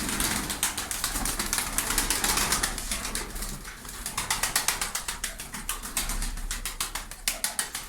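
Pigeons in a bird loft, with rapid repeated clattering and fluttering sounds and faint cooing and shuffling throughout, fairly soft.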